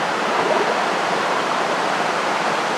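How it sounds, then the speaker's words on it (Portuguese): A waterfall nearly 25 metres high crashes into a natural pool, a loud, steady, broadband roar of falling water that holds constant throughout. "Tem uma queda de quase 25 metros de altura à espera do visitante."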